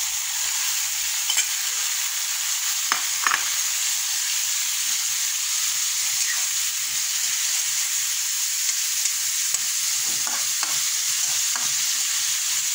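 Chopped tomatoes sizzle and fry steadily in a hot pan, a dense continuous hiss with occasional faint clicks and stirring scrapes, no voices.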